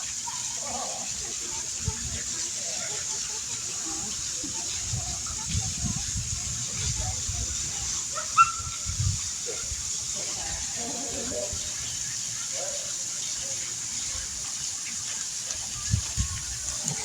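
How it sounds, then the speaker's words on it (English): A waterfall at Starved Rock near a cave gives a steady, faint rushing hiss of falling water that runs throughout, with scattered low thumps and rustles around it. "You can see this waterfall."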